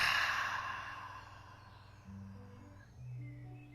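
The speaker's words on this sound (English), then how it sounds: "Take a deep inhale. Exhale it out." A long, slow exhale during a gentle relaxation yoga session, a soft breathy rush of air fading out over a couple of seconds, followed by quiet low hum.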